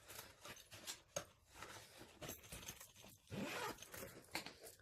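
A top zipper on a craft organiser is pulled open in several quick rasping bursts, close up, with small rustles and clicks between the strokes.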